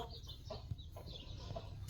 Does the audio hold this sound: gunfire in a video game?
no